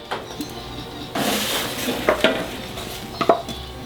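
A spatula scrapes across the bottom of a pan to deglaze the browned sugars while cooking pork osso buco, giving scattered scratchy strokes with a few metallic clinks, close and moderately loud.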